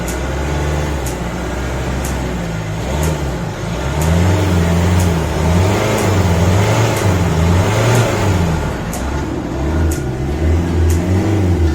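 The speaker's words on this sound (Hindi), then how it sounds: "थोड़ा सा मैं आपको रेव करके भी दिखाता हूँ।" A used diesel car engine is revved repeatedly while parked, a loud, close rumble that swells and falls in a slow regular rhythm over a steady idle, with faint periodic ticking above.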